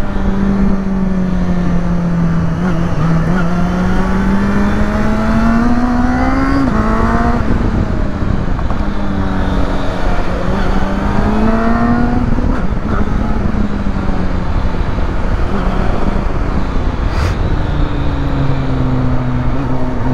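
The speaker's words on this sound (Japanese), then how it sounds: "VTEC のこの音面白いな" A high-revving Honda CB400 motorcycle engine with VTEC climbing and falling through the gears, its pitch sweeping up sharply and dropping back repeatedly, loud and close throughout.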